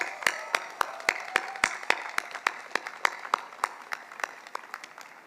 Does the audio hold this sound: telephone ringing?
no